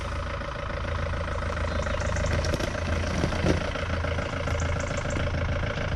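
A vehicle engine towing a camper across a field, a steady, close idling rumble that holds evenly throughout with no talking.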